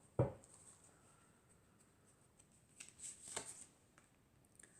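Tarot cards drawn from a deck at a reading, a sharp tap at the start followed by soft, faint shuffling and sliding of cards in a quiet room.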